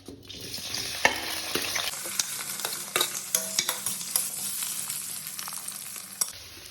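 Half-boiled potato pieces fry in hot oil in a wok, a steady sizzle with sharp scraping and stirring clicks from a utensil throughout, close and fairly loud, with no talking.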